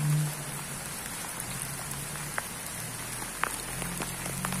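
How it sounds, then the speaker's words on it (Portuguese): Steady rain falls on an outdoor overlook near a monastery above a town in Minas Gerais, a soft, continuous hiss with a few sharper drops landing nearby, fairly quiet and without any voices. "Olha aí, a chuva está caindo."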